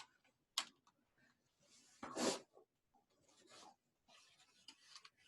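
A wet magic eraser rubs over painted paper to lift out a round sun shape, giving soft, quiet rasping strokes in short bursts with gaps of silence between them.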